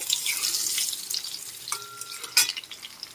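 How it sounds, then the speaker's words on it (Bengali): Potatoes fry in a small amount of oil in a pan while being turned, a close, steady crackling sizzle with a brief clink partway through and no talking. "আলুগুলোকে একটু নেড়ে চেড়ে ভেজে নিতে হবে"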